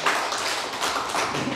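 Congregation clapping during a Korean church sermon, a steady dense patter of many hands sustained throughout, fairly close and even in loudness.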